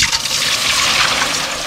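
Tap water runs in a loud, steady hiss and splash while a burnt, blackened cooking pot is rinsed, with no talk over it.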